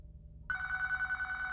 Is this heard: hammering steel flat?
no